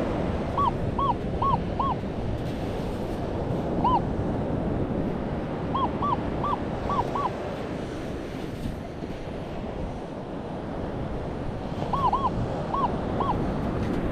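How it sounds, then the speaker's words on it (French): Sea waves wash onto a beach in a steady, windy roar of surf, with repeated short electronic beeps from a Minelab Manticore metal detector sounding in small clusters over the noise. "je fais attention parce que les vagues arrivent."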